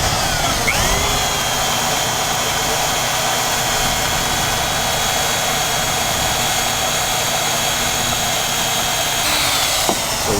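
A power drill boring a hole into a log for an electrical outlet during a log home build, a steady loud whine that runs continuously for about ten seconds, stopping briefly at the start and end.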